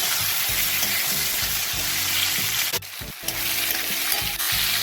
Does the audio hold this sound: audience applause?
no